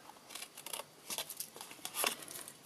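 Scissors snipping through paper at an angle while trimming a craft box, a run of short crisp cuts with brief pauses between them, close and quiet with no talking.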